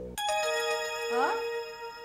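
A tonal electronic phone ringtone sounds, sustained chiming notes with a rising warble, fairly close and clear.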